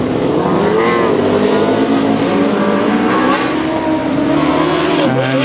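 A Formula Student race car runs the endurance track at Formula Student Germany 2009, its loud engine droning steadily and close throughout, with shifting pitch as it passes and a faint crowd wash behind.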